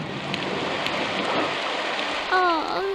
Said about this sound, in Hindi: बारिश अब तेज हो गई थी।